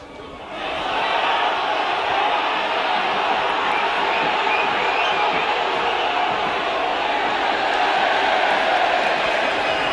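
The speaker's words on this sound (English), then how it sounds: "And the crowd shouting there" Rugby league crowd at a Warrington versus Leeds match, a loud, dense roar of shouting that swells after the first half-second and holds steady to the end.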